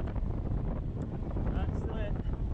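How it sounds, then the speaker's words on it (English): Wind buffets a microphone during a mountain bike ride in the Peak District, a low rumbling gusty roar that swells and fades, with faint voices briefly in the background. "It's a bit windy actually."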